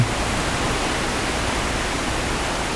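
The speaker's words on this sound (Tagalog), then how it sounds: "palakas ng palakas ang ulan" Heavy, intensifying rain pours as a dense, steady hiss and roar, loud and close, with no voices.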